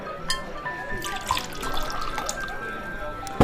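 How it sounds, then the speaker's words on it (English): Sound effect of a drink being poured at a bar, with liquid trickling and dripping into a glass in short splashy bursts over a quiet background, heard alone without speech. "Martin will come over, pour you a drink"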